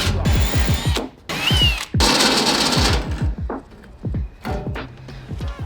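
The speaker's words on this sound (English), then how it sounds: "I'm gonna hurry and drill those" Drilling holes in a 1999 Honda Civic engine bay: a power drill whirs in repeated bursts with short pauses between, loud and close, with clicks and rattles of the tool.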